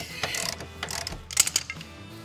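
A wrench ratchets against a rusty nut on an old car, a few quick clicking bursts with short pauses, close and fairly loud, with no talking.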